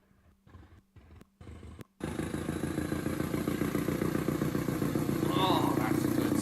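Thumper diesel multiple unit engine running, a loud sustained rumbling throb that starts abruptly after a few short chopped bursts of sound and grows steadily louder, with faint voices beneath.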